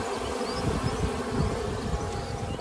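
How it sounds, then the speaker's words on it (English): Honeybees buzzing at a hive in an apiary during a summer hive check, a close, continuous droning hum with the pitch wavering slightly as the bees move around, and no talking. "I see a bee, where was it now?"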